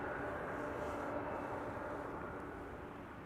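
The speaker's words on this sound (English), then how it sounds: "Outbound 747 will be leaving via the center runway to Seoul" A Boeing 747 departs Schiphol's center runway, its engines making a steady, distant low roar that holds evenly throughout with no voices.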